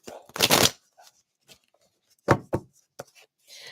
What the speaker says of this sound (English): So let's pull a card here. I'm shuffling these like crazy.